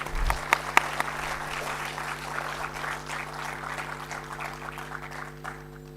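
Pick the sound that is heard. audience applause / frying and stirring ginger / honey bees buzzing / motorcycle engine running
audience applause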